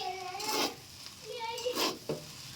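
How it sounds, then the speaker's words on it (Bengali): Chicken fried rice is stirred and tossed in a frying pan, with soft scraping and sizzling under a person talking, and a few brighter clinks of the utensil against the pan. "সুন্দরভাবে সাইজ দিয়ে সুন্দরভাবে নেড়ে চেড়ে নেব।"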